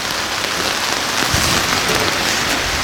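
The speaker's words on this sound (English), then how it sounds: "Whoa, that's quite the storm." Heavy rain from a storm in the Canadian wilderness, a dense, steady hiss of drops pattering on surfaces, loud and close, continuous throughout with no talking.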